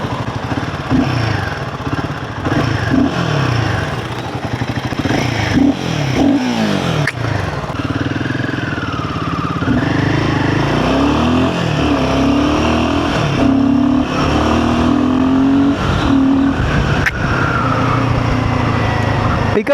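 A Royal Enfield Himalayan 450 adventure motorcycle accelerates hard through third and fourth gear, its loud engine note rising and dropping with each pull over steady wind roar, heard close from the rider's position, with a voice talking intermittently.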